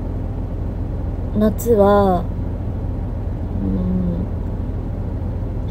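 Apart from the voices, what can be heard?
car interior while driving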